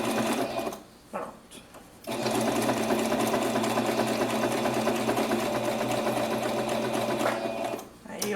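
A sewing machine stitches a cloud-shaped fabric pencil case along curves. After a few short bursts of stitching, it runs at a fast, continuous mechanical rattle for several seconds before slowing to a stop, with a person talking alongside.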